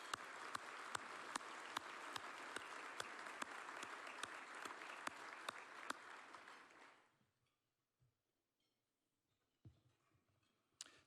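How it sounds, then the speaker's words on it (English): Enthusiastic audience applause at an economic outlook forum, dense clapping with a few sharp claps standing out, lasting about seven seconds before fading to near silence and faint room noise. "let's give a round of applause for all of our sponsors"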